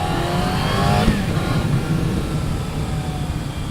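A 1996 Yamaha YZF600 motorcycle engine revs loudly and close, a sharp rise in pitch early on, then a steady drone as it pulls away, with heavy wind rumble throughout.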